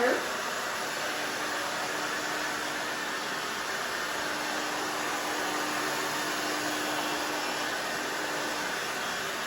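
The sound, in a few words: hair dryer drying hair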